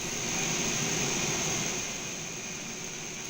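Steady, loud engine drone inside the cabin of a simulated ANA Dash 8 Q400 turboprop, with a sustained whine over a broad rumble, heard from the rear of the plane and holding level throughout with no talk.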